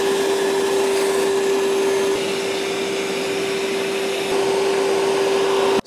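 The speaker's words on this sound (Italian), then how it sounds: "lo aziono su aspirapolvere e andiamo a soffiare" A Conga Triton 4000 wet-dry vacuum runs in blower mode with a loud, steady whooshing roar and a constant motor whine, unbroken for the whole stretch and with no voices.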